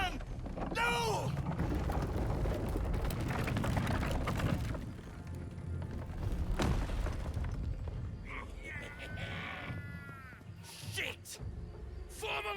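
Cannon fire in a Baldur's Gate 3 battle: several loud booming blasts and crashes in a busy game mix, with voices talking throughout.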